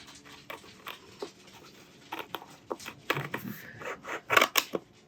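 Scissors cutting cardstock cake toppers apart, a close run of crisp snips and paper rustles that grow denser and louder toward the end.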